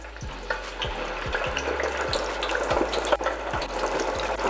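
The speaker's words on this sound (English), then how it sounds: "I am going to drop them into our fryer" Lemon pepper chicken thighs frying in a deep fryer, a steady loud bubbling sizzle with regular faint clicking or ticking mechanical taps running underneath.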